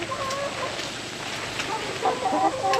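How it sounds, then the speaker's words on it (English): Several chickens cluck and murmur nearby in a steady, overlapping chatter, with slightly louder calls toward the end. "You can see I'm being followed by chickens everywhere."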